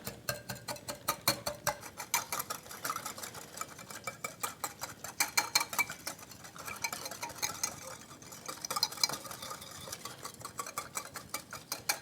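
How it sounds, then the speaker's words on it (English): Beef being stirred with brown sugar in a bowl, a quick run of rhythmic scraping and clicking strokes against the bowl, close and fairly quiet, continuing steadily for several seconds. "Then we mix this up."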